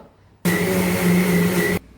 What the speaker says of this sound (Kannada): ಸ್ವಲ್ಪ ನೀರು ಹಾಕಿ ನುಣ್ಣಗೆ ರುಬ್ಕೋಬೇಕು.